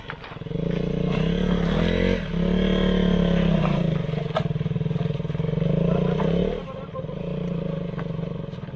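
A KTM motorcycle rides an off-road trail at Ilaveezhapoonchira, its engine droning and revving loudly and continuously, with brief dips in throttle and scraping, clattering noise from the rough ground.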